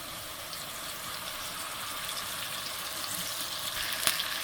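Onion and oil sizzle and fry in a pan for a beli fish curry, a steady, even hiss throughout with a small clink near the end, close and moderately quiet, with no talking.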